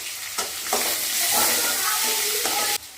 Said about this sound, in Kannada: ಕೆಂಪು ಬರೋವಾಗ ಇದು ಮಾಡ್ಕೋಬೇಕು ಫ್ರೈ ಮಾಡ್ಕೋಬೇಕು